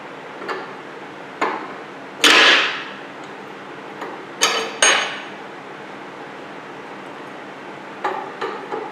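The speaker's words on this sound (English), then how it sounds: "it's a 15/16 wrench, and you've got a nut here and a nut here, and we've got to bust both of them loose." Metal wrench clanks and knocks while loosening nuts on a Bad Boy Maverick mower deck, several sharp isolated hits with brief scraping, close and moderately loud over a faint steady hum.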